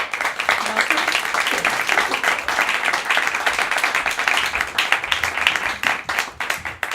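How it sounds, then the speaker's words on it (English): Audience applause for poet Jean Ann Verlee at a Poetry Rising open mic at Nyack Village Theatre, a steady, dense wash of clapping from a full room that holds throughout, with a few voices mixed in. "let's give her a big hand"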